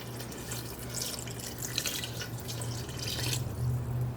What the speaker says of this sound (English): We're just going to add some water.